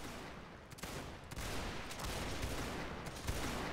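Ragged volleys of musket fire from a Napoleonic line battle in Mount & Blade, shots cracking in overlapping bursts, some near and some distant, continuing throughout with no talk.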